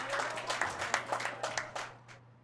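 A crowd applauds at a racquetball doubles final in Boston, a burst of clapping that peaks early and then thins out and fades over a couple of seconds.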